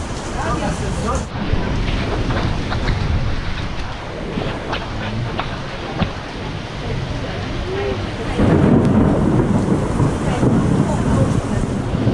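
Heavy rain during a thunderstorm, heard from inside a restaurant in Bulgaria: a steady, loud, dense hiss with low rumbling, swelling even heavier near the end, and no clear voices over it.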